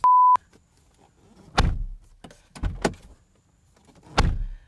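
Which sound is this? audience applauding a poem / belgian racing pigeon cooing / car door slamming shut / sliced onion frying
car door slamming shut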